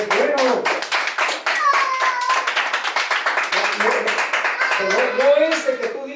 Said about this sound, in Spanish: ¿Alguien puede dar un aplauso al Señor Jesús?